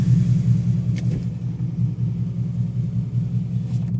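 A 2015 Ford Mustang GT with Flowmaster Outlaw axle-back exhaust, stock headers and cats and an X-pipe with no resonators, burbles at idle with a deep, lumpy rhythmic rumble, loud and close from inside the car.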